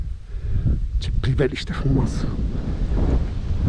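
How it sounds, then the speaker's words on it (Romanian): Gusty wind buffets the microphone with a low rumble in Valea Ocinei near Breaza, Romania, under a man's brief spoken remark. "Și a început să bată și un pic vântul."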